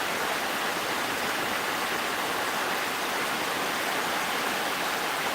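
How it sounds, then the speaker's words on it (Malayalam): Heavy monsoon rain pours down in Changanassery, Kerala, a dense, unbroken roar of falling water that stays loud and steady throughout, with no voices. "മഴയുടെ പവർ നോക്കിയാൽ"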